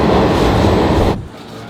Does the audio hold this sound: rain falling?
no